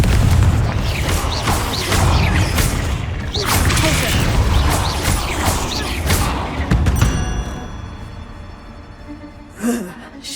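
A Confringo fire spell in Hogwarts Legacy sets off loud booming blasts and crashing debris that keep rumbling for several seconds. The clatter then fades into quieter game ambience with one last thump near the end.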